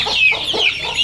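Free-range native backyard chickens cluck in a quick series of short, close, fairly loud calls, with no talk over them.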